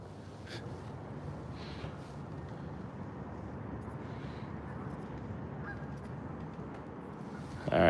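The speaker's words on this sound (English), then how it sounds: "Man, those geese just can't shut up." Geese honking by a partly thawed lake while fishing in New Jersey in December, a flock calling repeatedly at a distance over a steady outdoor hiss.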